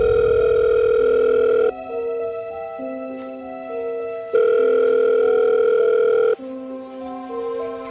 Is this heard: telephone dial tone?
yes